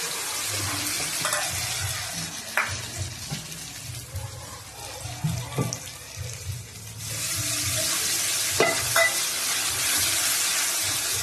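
Hand-ground spice paste, crushed on a grinding stone, fries with browned onions in a pan: a close hissing sizzle with irregular stirring scrapes and knocks, softening midway then swelling louder again.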